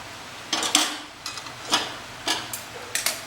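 A lid goes onto a pot of chicken Bagheli, a royal Baghelkhand dish, with a handful of sharp metallic clinks and taps spaced across a few seconds in a quiet kitchen.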